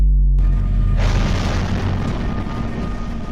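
Heavy bombing during the Russian invasion of Ukraine, with attacks on Kyiv and other cities: a deep, loud boom swells into a sustained, rumbling roar that slowly fades.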